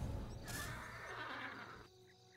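A horse unit in the strategy game Legion TD lets out a loud, drawn-out neigh that rises and then trails off, over faint game background noise.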